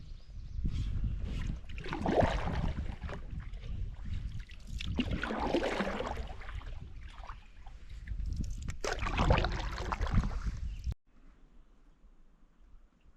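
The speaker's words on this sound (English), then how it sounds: "So, just paddling right now." Solo canoe paddled on a wilderness lake on a windy, rainy day in the Boundary Waters, with water swishes and splashes under steady wind noise for about eleven seconds before dropping to a quiet hum.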